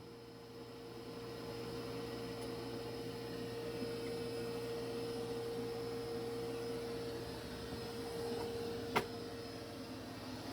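Dreame X60 Ultra robot vacuum cleaning debris from a floor in a crisscross pattern, giving a steady close motor whine with a constant hum throughout and one brief sharp click near the end.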